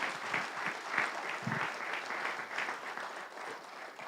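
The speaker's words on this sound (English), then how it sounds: "the parents cheer, and the parents are here. They're cheering." Audience clapping at a city council meeting, a steady moderate round of applause that holds for several seconds without talk over it.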